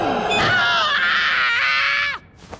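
A cartoon character named Bernie lets out a single long, loud, high-pitched scream lasting about two seconds that cuts off abruptly, followed by quiet room noise.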